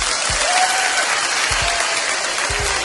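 A live crowd in a played Eddie Murphy stand-up comedy recording breaks into loud, dense clapping with a roomy, slightly compressed sound. A few low thumps break through the steady applause.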